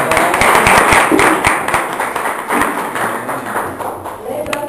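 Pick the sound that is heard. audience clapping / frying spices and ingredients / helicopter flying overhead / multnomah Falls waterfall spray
audience clapping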